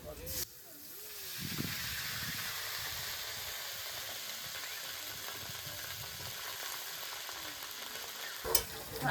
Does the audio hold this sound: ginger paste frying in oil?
yes